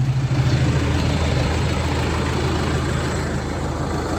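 A tractor engine idles on a weighbridge with a steady, loud low rumble and an even, unbroken drone throughout, no voices over it.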